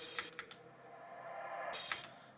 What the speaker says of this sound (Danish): udover at der så også er nogle små sådan nogle crashes og whooshes og sådan noget, der lyder sådan her